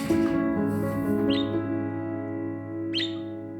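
A pet bird in a nursing home gives two short, bright chirps spaced a couple of seconds apart, heard over a steady hum of room noise.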